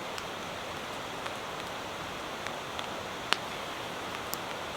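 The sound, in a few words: light rain falling outdoors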